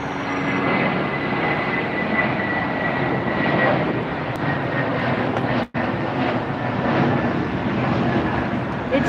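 A departing airliner at LAX airport makes a loud, steady, broadband jet roar that persists throughout, with a brief dropout midway.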